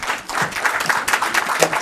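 A council meeting audience in Franklin Township, New Jersey, gives sustained applause for the members and supervisors of the Franklin Township Youth Council; dense, steady clapping fills the room throughout.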